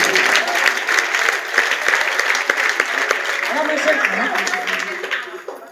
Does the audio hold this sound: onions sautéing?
no